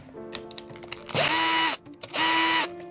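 A small electric screwdriver removes screws from an RC car that has been in water, whirring in two loud bursts of about half a second each, with light clicks and handling noises before them.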